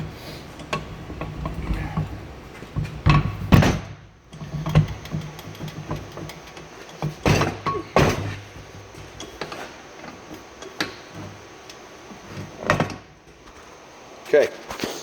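A bench vise in a workshop is cranked open, with scattered clicks, clunks and metallic knocks at close range. Faint background noise fills the gaps between the irregular hits.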